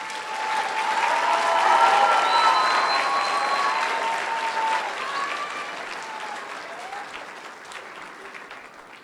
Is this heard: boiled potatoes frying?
no